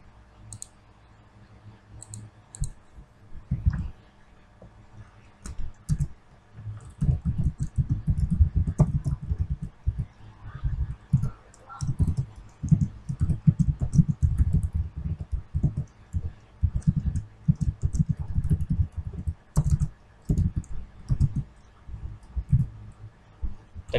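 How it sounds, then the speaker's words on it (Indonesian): Code being typed on a computer keyboard: a steady run of soft, close clicking keystrokes in quick bursts with short pauses, no talking. "Coba kita ketik kodenya"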